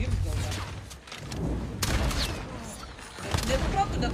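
Gunfire from the video game Call of Duty during a tournament match, dense bursts of shots and booms heard at a steady loud level throughout, with voices talking over it.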